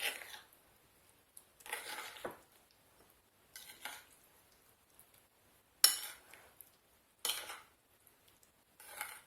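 Apple filling for a galette des rois, made without dairy, being stirred in a bowl with a utensil, giving several short scraping, clinking bursts separated by pauses, close and fairly quiet.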